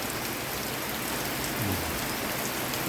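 Steady rain pours down across a rural farm at midday, a dense even hiss of drops hitting surfaces that stays constant throughout with no voices.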